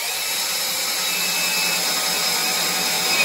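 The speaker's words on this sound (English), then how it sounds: "I then use some sanding with the machine to sand it" Power sander working on a wooden geodesic dome strut, a steady continuous whir with a gritty abrasive hiss, held at even loudness throughout.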